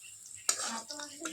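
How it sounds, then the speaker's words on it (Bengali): Potatoes frying in a pan start sizzling abruptly after a quiet moment, a soft close crackle that continues with small stirring bursts. "এই আলু ভাজা অল্পটুকু"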